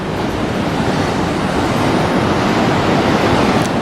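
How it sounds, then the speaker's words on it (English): Ocean waves washing onto a Pacific beach, a steady loud roar of surf with some wind noise and no voices. "So this is the beach."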